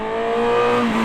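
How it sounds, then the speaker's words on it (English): A 2025 Honda CB1000 Hornet SP motorcycle engine gives a steady, close, racy drone, holding a tone that shifts slightly near the end of a short burst. "it sounds great as well. It sounds like a race bike."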